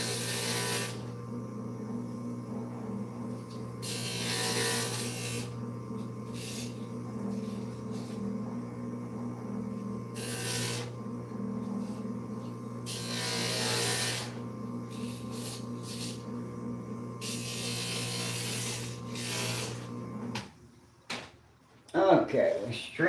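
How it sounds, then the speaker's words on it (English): A stained glass grinder hums steadily while a glass triangle is pressed against the bit, with repeated bursts of gritty grinding over the motor drone, then a few clunks as it stops. "we're going to grind this triangle down just a tiny bit"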